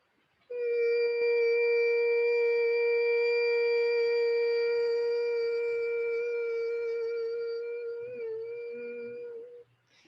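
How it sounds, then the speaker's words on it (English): A steady, close humming tone from Bhramari bee breath, a yoga breathing practice, holds one pitch for about nine seconds, then wavers and fades at the end. "It sounds like a bee buzzing breath."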